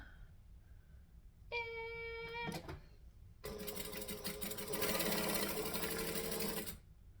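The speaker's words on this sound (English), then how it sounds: "So I'm going to sew them all together." A home sewing machine stitching fabric pieces together runs in short bursts, a brief whir first, then a longer steady mechanical hum with a rapid needle clatter close up, with no voices.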